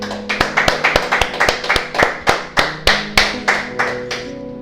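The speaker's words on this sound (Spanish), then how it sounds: "Dale ese aplauso al Señor bien fuerte." A church congregation claps together in a steady, rhythmic beat during a sermon, loud and close, a dozen or so sharp unified claps fading slightly toward the end with no talking over them.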